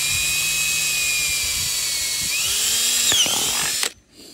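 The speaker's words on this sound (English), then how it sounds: "we're drilling some holes there" A power drill bores 6.5 mm holes through a Maxton body kit panel on a Vauxhall Corsa D, a steady high whine that shifts pitch as the bit cuts, then stops abruptly near the end.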